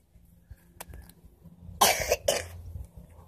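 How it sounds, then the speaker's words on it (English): A child coughs twice in quick succession, close by, with faint background noise and a small sound earlier. "How'd the doctor show you to cough?"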